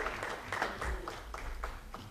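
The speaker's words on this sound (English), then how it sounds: "would you give the Lord a clap offering of praise?" Church congregation clapping in praise during a Sunday morning service, a fairly faint, uneven patter of hands in a reverberant hall.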